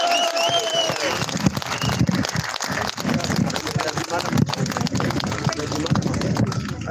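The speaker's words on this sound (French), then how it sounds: "je vous prie d'applaudir Jacques Cheminade" Dense, steady applause from a rally crowd in France greeting Jacques Cheminade, broadband and continuous with crowd noise and scattered voices mixed through the whole stretch.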